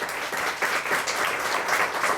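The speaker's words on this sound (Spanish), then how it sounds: "Les damos nuevamente un aplauso" Audience applause at a round-table seminar on information policy, steady dense clapping from a crowd sustained throughout without a break.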